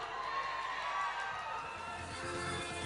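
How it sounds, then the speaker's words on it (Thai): Audience at a provincial insurance agents' annual seminar in Thailand cheering and shouting in a steady, dense wash of crowd noise, fairly far off and even throughout, without distinct individual claps. "ขอเสียงปรบมือในทางอีกสักครั้งให้กับ Bad Up Division Division 7ภาคใต้ครับผม"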